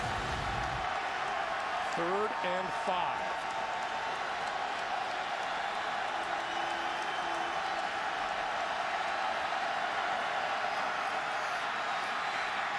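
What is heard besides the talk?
football stadium crowd cheering in Tennessee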